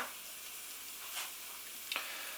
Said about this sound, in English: We want to fry these spices off to bring out the flavours.